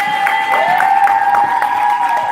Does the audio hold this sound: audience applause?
yes